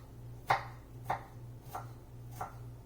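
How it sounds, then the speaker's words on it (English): A knife chops half a garlic clove on a cutting board in four evenly spaced sharp taps, close and clear over a low steady kitchen hum. "I'm only going to cut up a half a garlic."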